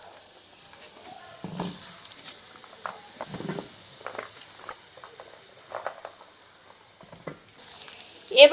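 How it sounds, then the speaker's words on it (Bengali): Peeled potatoes fry in mustard oil until reddish, for a pea and potato dum. A faint steady sizzle runs throughout with scattered soft clicks and stirring taps, then a sharper clatter right at the end. "আমি তেলের মধ্যে দিয়ে আলুগুলো সুন্দর করে একটু লাল লাল করে ভেজে নেব"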